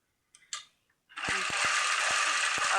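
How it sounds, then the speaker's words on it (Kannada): A sewing machine running steadily, stitching a straight seam in fabric for an umbrella frock, a loud continuous whir after a few brief handling clicks, close by. "ಇದು ಸ್ಟ್ರೇಟ 2 ಹೊಲಿಗೆ ಹಾಕ್ತೀನಿ"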